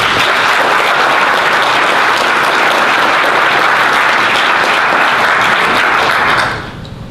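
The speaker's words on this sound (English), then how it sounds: "So give your families a round of applause for coming out." A crowd of graduates' families at a GED graduation ceremony in a correctional center applauds loudly and steadily for about six seconds before the clapping thins and fades.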